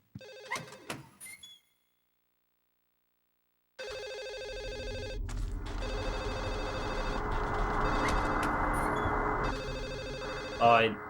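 Telephone in Silent Hill 4 rings in steady repeated electronic trills through a loud ambient drone, after a brief burst of clicks and a silent gap, with another clicking sound near the end.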